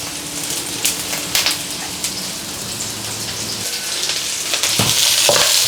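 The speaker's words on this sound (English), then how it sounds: "in the pan, a little bit of oil. In with some onions. In with some garlic." Onions and garlic dropped into a little oil in a pan for Chinese beef and broccoli crackle into a loud, rain-like sizzle that swells after a few seconds, with scattered pops and clatters.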